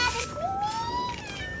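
A single drawn-out cat meow, rising then holding steady, close by and fairly clear over a faint background with no talking.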